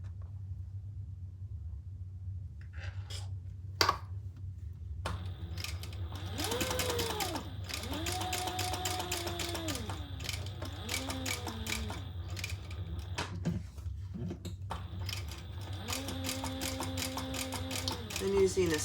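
A sewing machine runs in steady bursts stitching a leather key fob wallet at a long stitch length, its mechanical whir rising and pausing over a low constant hum, close by.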